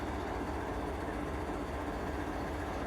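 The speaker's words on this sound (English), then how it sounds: "But this is CSX 917 ES44AH." A CSX 917 ES44AH diesel locomotive idles close by with a steady, dense low rumble and constant engine drone, no talk over it.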